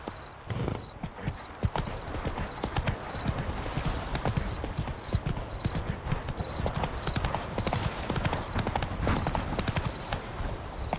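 Roach the horse gallops in The Witcher 3, with rapid, continuous hoofbeats close and loud along with a regular chiming tone overhead and faint background activity.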